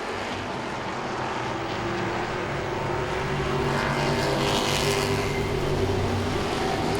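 Grand stock cars race at Langley Speedway in a close battle for the lead, their engines making a continuous loud roar that swells slightly as the pack passes.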